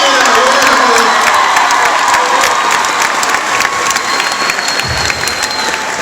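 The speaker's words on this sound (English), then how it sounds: "Give them a round of applause." Loud, steady applause and cheering from a packed school crowd at a pep assembly, with whoops and shouts of students rising over dense clapping that carries on throughout.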